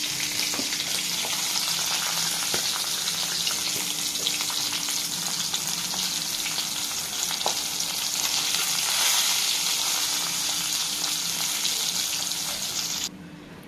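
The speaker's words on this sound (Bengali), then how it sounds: "মাছ ভাজা হয়ে গেছে বন্ধুরা" Fish fries in a pan of oil with a loud, unbroken sizzle heard up close, faint scrapes and clinks mixed in, running steadily until it drops off at the very end.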